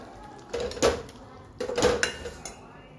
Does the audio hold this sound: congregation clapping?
no